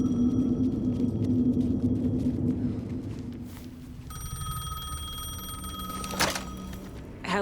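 A payphone in Alan Wake 2 rings with a steady electronic trill that starts midway and continues over a low background rumble, followed by a brief sharp click near the end.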